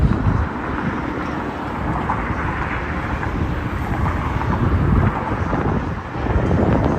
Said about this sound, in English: You guys will hear the wind.